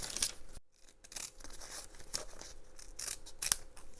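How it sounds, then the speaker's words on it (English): Small sharp craft scissors snip through cloth and paper for slow-stitch Christmas ornaments, giving a series of crisp, close cuts with short pauses between them and one sharp click near the end. "So I'm just using some little craft scissors that are sharp enough to do both."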